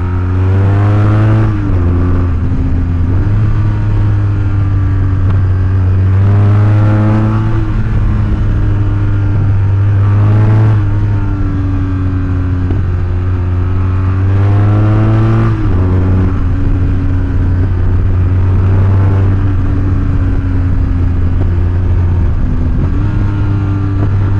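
BMW R1200GS adventure motorcycle engine droning steadily while riding, loud and close, with repeated rises and falls in pitch as the rider shifts and accelerates, plus wind rush throughout.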